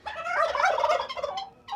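Several turkeys gobble together on a farm, a loud, dense run of warbling calls close by, fading briefly before another gobble starts at the end.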